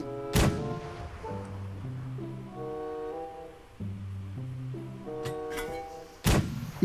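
A mortar fires in the mobile battle royale game PUBG Mobile, giving a sharp, heavy thump near the start and two more toward the end. Between the shots, a tonal game music or alert phrase plays steadily.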